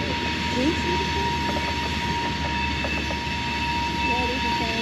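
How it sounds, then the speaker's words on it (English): A train passes at a distance along the Montgomery, Alabama riverfront, a steady low rumble with faint rail clatter filling the background throughout, with distant voices mixed in. "there's a train going by in the background"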